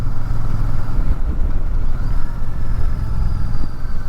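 Royal Enfield Super Meteor 650 motorcycle engine while riding in fourth gear at about 50 km/h through a village, a steady, moderate engine drone with wind rumble, continuous and close throughout with no speech.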